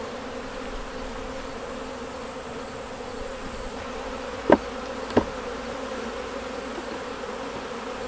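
Honey bees buzz steadily around an opened beehive that is heavy with honey. The close, continuous drone is broken by two sharp little knocks near the end.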